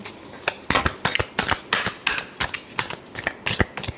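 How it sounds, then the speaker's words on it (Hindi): Tarot cards being shuffled by hand, a rapid run of crisp riffling flicks and slaps in an uneven rhythm, close and fairly loud with no talking. "last shuffle"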